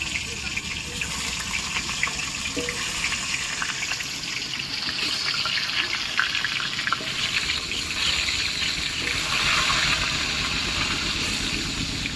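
Potatoes fry in hot oil in a home kitchen, a steady broadband sizzle and crackle that holds at an even level for the whole stretch.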